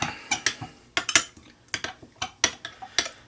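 A spoon scrapes and clinks against a bowl while mixing horseradish, lime juice and cocktail sauce for shrimp cocktail, in irregular quick strokes, close and fairly clear with no talk.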